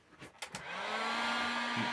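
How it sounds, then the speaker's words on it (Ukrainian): Heat gun blowing hot air onto old paint on a child's wooden high chair, a steady loud whoosh with a low hum that starts after a few clicks and rattles and continues to the end. "О, будівельний фен. Зараз спробую його підігріти."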